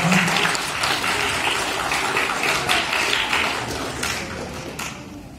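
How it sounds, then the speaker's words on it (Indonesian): An audience at a cultural arts performance in North Sulawesi applauds the Efrata Choir, a thick, continuous crowd clapping that holds steady and then slowly thins, heard alone without voices. "sekarang kita beri tepuk tangan untuk Efrata Choir tadi"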